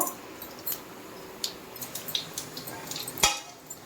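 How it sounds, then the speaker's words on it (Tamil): Mustard seeds with black gram and chana dal pop and splutter in hot oil for lemon rice, scattered sharp crackles and pops with a few louder bursts over a quiet background. "கடுகு நல்லா பொரிய ஆரம்பிச்சிச்சு"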